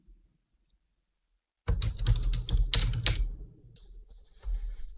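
A course name is typed on a computer keyboard in a quick run of crisp, close key clicks that starts after a short silence and continues steadily to the end.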